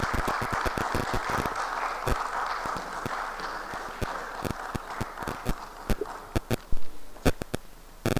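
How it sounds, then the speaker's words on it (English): Conference audience applauding as a man walks onto the stage at a technology week event, a dense roll of claps with sharp louder hits toward the end, close and steady, no talk over it. "A round of applause for him as he takes the stage."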